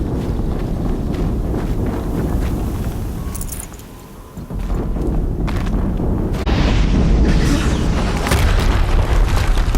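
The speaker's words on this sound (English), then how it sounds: "Another explosion." Heavy, rumbling explosions in Horizon Zero Dawn, a broad roaring blast that dips briefly, then swells again into a louder sustained rumble with crackling debris, no voices over it.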